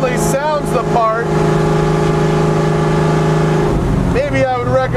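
A loud 1989 Mustang race car running without mufflers, its engine droning steadily through the clip with a deep held tone that dips near the end as the revs shift, while a voice talks over it.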